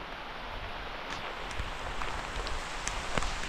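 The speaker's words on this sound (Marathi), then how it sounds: "पाऊस आला चांगलाच." Steady rain falls on a farm, a dense even hiss with scattered sharper drips landing nearby on surfaces, faint and continuous without talk.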